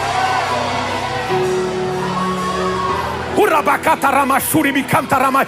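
Church congregation at a Portuguese-language service shouting and whooping loudly together, a sustained roar of voices that breaks into rhythmic bursts of yelling toward the end.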